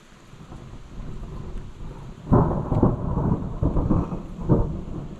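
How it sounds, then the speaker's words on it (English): Thunder rumbles outside during a boat restoration: a low background rumble, then a louder rolling crack with several heavy bursts over the remaining seconds, under steady rain noise and with no voices. "Thunder's coming."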